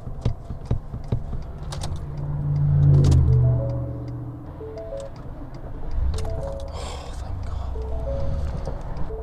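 A Ford F150 pickup with a nearly empty tank, just refuelled, its engine cranking with rapid starter whirs and clicks before catching and settling into a low idle.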